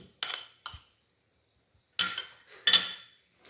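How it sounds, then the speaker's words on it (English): Saltfish, scallion and onion being mixed together for curry saltfish fritters, heard as a few separate scraping clinks of utensil against bowl, close and fairly loud, with short silences between. "I'm gonna put those in as well. I'm gonna mix everything together."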